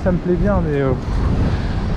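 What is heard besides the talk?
strong wind by the sea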